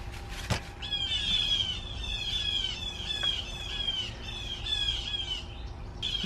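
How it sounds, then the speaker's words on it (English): Several birds squawk repeatedly in a steady, chattering series, fairly close and clear, against a low outdoor background hum, with one sharp knock near the start. "Thank you, Lord, for the squawking birds"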